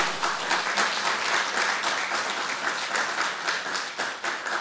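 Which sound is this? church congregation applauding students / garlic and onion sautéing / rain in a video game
church congregation applauding students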